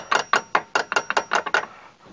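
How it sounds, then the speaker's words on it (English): Nine gentle hammer taps in a quick, slightly uneven rhythm, close and alone, as a steel hammer drives a ball joint bolt into the front hub of a Saab 9-3 during wishbone replacement. "Help it along with a few gentle hammer taps"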